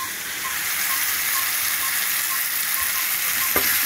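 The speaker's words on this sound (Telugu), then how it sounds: "మెత్తగా ఉండే టమాటాలు కొంచెం గట్టిగా ఉంటాయి కాబట్టి మనం ఆయిల్లోనే ఫ్రై చేసుకోవాలి." Tomatoes frying in hot oil in a pan, giving a steady close sizzle with no gaps, a soft scrape of stirring near the end.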